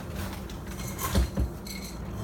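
A spoon mixing wet and dry cat food in a dish, a couple of distinct clinks against the bowl over low, soft scraping, close by and without speech.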